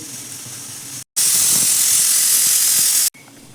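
A pressure cooker whistle releases steam in a loud, steady hiss lasting about two seconds, with a softer background hiss before and after.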